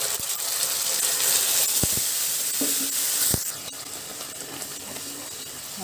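Ground masala paste sizzling steadily in hot oil for a masala curry of sprouted black chickpeas, a continuous broad hiss with a few sharp pops and clinks, easing slightly partway through.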